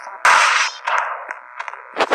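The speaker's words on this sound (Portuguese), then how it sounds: "Ai, um barulho de tiro." A single sharp burst of synthetic video game gunfire, then scattered clanking and electronic effects trailing after it, fairly loud and close.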